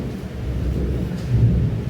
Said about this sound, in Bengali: বিদ্যুৎ চমকাচ্ছে প্রচণ্ড।